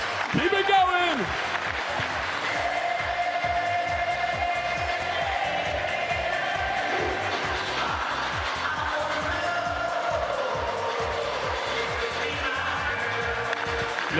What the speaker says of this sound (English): Now keep it clapping as we shuffle.